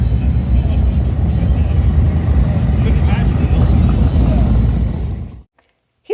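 Heavy low rumble of many motorcycles on historic Main Street during the Sturgis Rally, a loud continuous throb that cuts off abruptly near the end.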